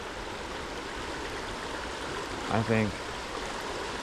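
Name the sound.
flowing Ohio creek water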